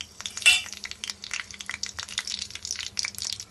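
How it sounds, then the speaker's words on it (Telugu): Tempering seeds splutter and crackle in hot oil in a pan, giving rapid irregular pops and sizzles up close, with faint clinks of a utensil against the pan. "పోపు గింజలు చిటపటలాడుతున్నాము"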